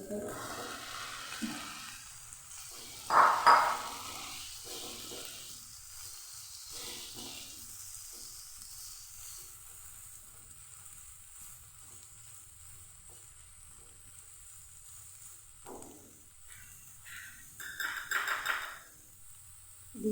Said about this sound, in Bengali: এবার দিয়ে দেবো ঝিঙে যে ঝিঙেটা আমি কেটে রেখেছি